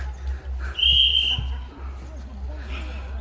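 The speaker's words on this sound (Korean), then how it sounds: "지금 호루라기를 불고 있는" A shrill referee whistle blast cuts through for about a second at an indoor jokgu (foot volleyball) match, amid a noisy gym with bouncing balls and distant voices.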